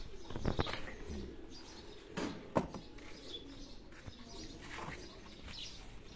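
Cooing pigeons and a few quick flurries of flapping wings sound in a loft, fairly close and moderately loud, with little talk over them.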